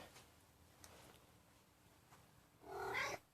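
A domestic cat named Batman lets out a single short, fairly close meow near the end, after a quiet stretch of faint low rumbling that may be soft purring.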